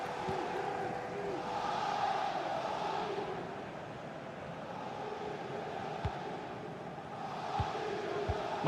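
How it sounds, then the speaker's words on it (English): Synthetic stadium crowd in a football video game with a PSG match, a steady low roar of chanting and cheering that swells and fades, with a few soft thuds of the ball. "The crowd encouraging him to take it on"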